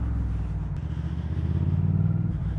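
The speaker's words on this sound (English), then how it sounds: "Let go of the clutch a little bit whilst revving it" Suzuki SV650S motorcycle, converted with GSXR parts, revs up close with the clutch partly let out, a low rumbling engine note that swells and throbs unevenly, rising toward the end.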